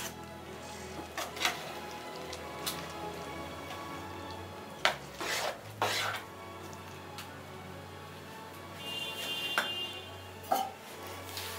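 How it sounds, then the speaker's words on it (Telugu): Ridge gourd pieces stirred with masala paste in a pan, a spoon scraping and clinking against the metal in scattered knocks and taps, with a few louder clatters and a quiet hum underneath. "సో ఈ పేస్ట్ అంతా ముక్కలకు పట్టేట్టుగా కలుపుకోవాలి."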